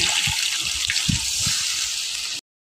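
Water poured into a pan of simmering curry masala for a spicy fish curry made with phasa fish, giving a steady, close hiss of liquid that runs for about two and a half seconds before stopping abruptly.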